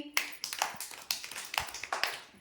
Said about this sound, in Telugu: ఫస్ట్ రిత్విక అది క్లాప్స్ కొట్టండి రిత్వికాకి